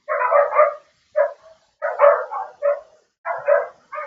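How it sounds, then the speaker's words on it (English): Several dogs bark in uneven bursts, a few yaps at a time with short pauses between, fairly close and with no talking. "those are the dogs of my neighbors that are barking"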